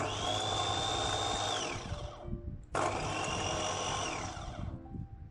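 An SKG electric food grinder with a stainless steel jar runs at high speed in two bursts, a whining motor that winds up, holds steady, then spins down after each run.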